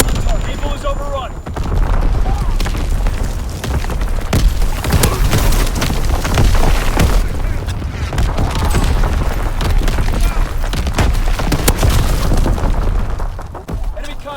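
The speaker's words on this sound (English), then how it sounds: "Anti-aircraft burst has commenced." Continuous anti-aircraft gunfire in a WW2 battle video game, a dense loud barrage of booms and bursts with radio-style game voice callouts running under it.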